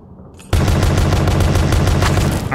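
Rapid automatic gunfire in the Pony Nightmare horror video game bursts in after a quiet start, a loud, dense, continuous stream of shots that runs to the end.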